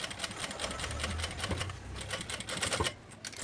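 A sewing machine stitches a seam on a fabric backpack, a fast continuous rattling whir in short bursts, close and moderately loud, with brief pauses between runs.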